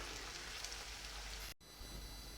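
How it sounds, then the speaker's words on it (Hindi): Sliced onions frying in oil until golden brown, giving a faint, steady sizzle and crackle that runs on with a brief break, no talking. "अब जनाब इस प्याज को मैं गोल्डन ब्राउन होने तक फ्राई करूँगा"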